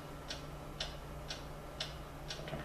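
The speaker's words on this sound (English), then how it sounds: "What is that mysterious ticking noise?" A clock's steady tick-tock with five evenly spaced ticks, soft and fairly close, over a low constant hum.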